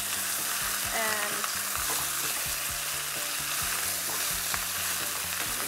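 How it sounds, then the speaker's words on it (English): Lamb, potatoes and onions sauté together in a pan with a constant close sizzle and crackle, while a utensil stirs and scrapes through them in repeated strokes, with no talk over it. "While we are sauteing"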